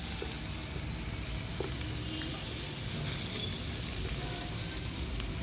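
Pieces of bitter gourd fry in about five spoons of oil, making a loud, even sizzle that runs without a break and without voices.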